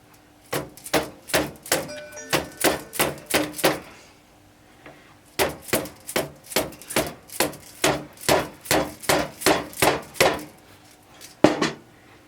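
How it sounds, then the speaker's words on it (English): Heavy blows from a dead weight hammer strike metal motorcycle parts in rapid bursts, sharp repeated impacts in quick runs with brief pauses between, close and loud. "Get the dead weight hammer"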